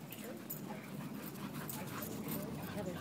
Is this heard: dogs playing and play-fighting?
yes